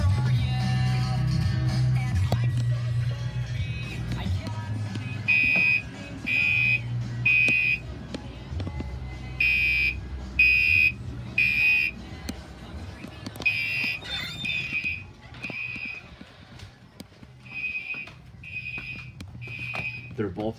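Two Gentex Commander 3 fire alarms set to mechanical code 3 at low volume, sounding repeated groups of three sharp buzzing horn blasts with short pauses between groups, loud and close, while people talk in the room.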